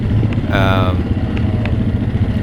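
A motorcycle with a restrictive stock muffler idles with a low rumble, then lets out a short raspy pop from the exhaust. A voice talks over the engine nearby.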